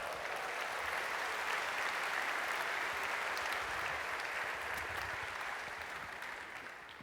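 Sustained audience applause at a comedy talk by Lewis Black, a broad even wash of clapping from a large crowd that tapers slightly toward the end, with no talk.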